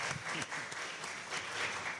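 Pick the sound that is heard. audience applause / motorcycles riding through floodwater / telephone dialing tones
audience applause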